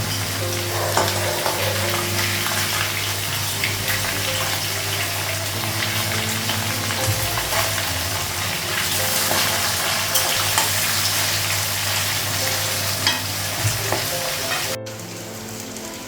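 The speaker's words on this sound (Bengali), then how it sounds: "মাছটা ভাজা হয়ে গেছে" Fish frying in a pan, a loud, dense, steady sizzle with faint stirring scrapes, close up and unbroken for most of its length before dropping abruptly near the end, with no talking.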